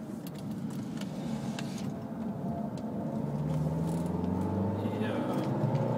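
A 2011 Opel Insignia diesel with 160 hp and 350 Nm of torque pulls under acceleration, its low engine drone rising steadily in pitch and loudness from inside the cabin, with some faint mechanical rattles.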